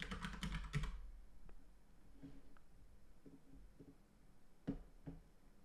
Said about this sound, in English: We're going to type EZRADIUS.